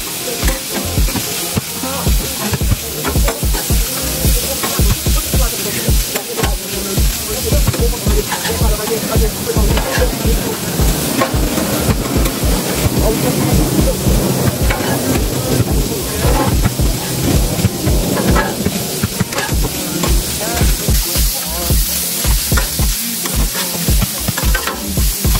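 Food frying in a pan on a home stove while cooking dinner, a steady loud sizzle with stirring and scraping throughout, continuous with no pauses.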